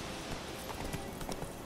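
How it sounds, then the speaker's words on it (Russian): A horse's hooves clip-clop in quick rhythm as it approaches in the video game The Witcher 3: Wild Hunt, a short burst of steady galloping hoofbeats. "Нажать на стик, короче, дважды, и лошадь сама придет."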